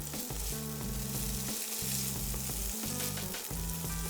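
Bacon fries in a pan for a quiche Lorraine, a steady close sizzle and crackle that carries on without a break.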